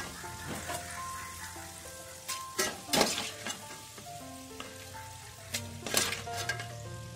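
Tapioca fritters (poolapori) frying in hot oil give a dense, continuous close sizzle with bursts of louder crackling and popping at irregular moments, with no talk over it.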